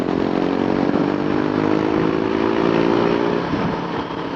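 A Royal Enfield Guerrilla 450 motorcycle rides past with a loud, steady engine drone that stays strong throughout and eases slightly near the end, with no talking.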